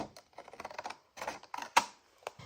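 Scissors cut straight across a folded paper folder for a vintage gift card holder, giving a string of short crisp snips and rustles in close quiet, with pauses between bursts and one sharper clack.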